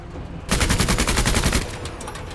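Rapid automatic gunfire from the tactical video game Menace, a dense, loud burst of overlapping shots lasting about a second before easing into a ringing tail.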